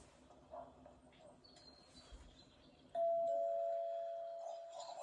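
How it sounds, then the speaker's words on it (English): A doorbell sounds once with a clear electronic chime that rings out and slowly decays, following quiet room ambience with faint rustling. "Ring bell, walk away."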